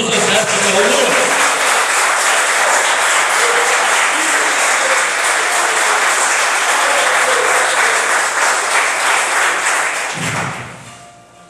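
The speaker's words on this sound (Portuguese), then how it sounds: "Aplauda o Senhor dos Exércitos." Church congregation applauding loudly and continuously during a worship service, a dense steady clapping that fades out near the end.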